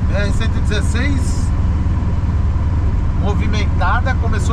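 Constant heavy road rumble of passing trucks, cars and buses on the BR-116 highway in rain, with people talking over the noise.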